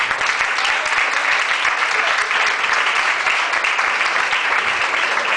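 Steady, dense applause from a standing congregation in a church, loud and continuous throughout with no break, with no talking over it.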